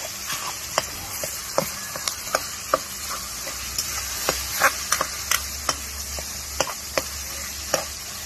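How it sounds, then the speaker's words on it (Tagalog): Tomatoes sizzle in a frying pan while a utensil stirs and mashes them, giving a steady hiss of frying with sharp, irregular taps and scrapes up close, and no voices. "Durugin po natin yung kamatis."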